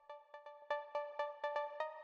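A techno synth pluck layering saw and square waves through a low pass filter, with light saturation and reverb, playing a rhythmic sequence of short repeated notes that rise in loudness partway through.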